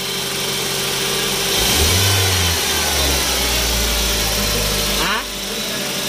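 A car engine is held at a steady rev of around 2,500 RPM during a radiator overheating test, a loud continuous drone that swells briefly and then eases slightly near the end, with people talking over it.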